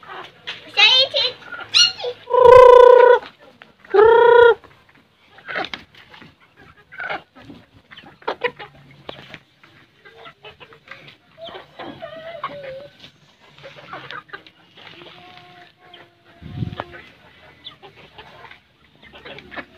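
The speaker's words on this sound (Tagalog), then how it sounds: "dalawa pa lang sila guys, dalawang Rhode Island." Two Rhode Island chickens in a small backyard farm give a few loud, drawn-out squawks near the start, followed by softer scattered clucks and rustling while a person talks intermittently.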